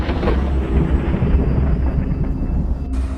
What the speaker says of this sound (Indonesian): Tiba-tiba, langit menjadi gelap dan petir menyambar.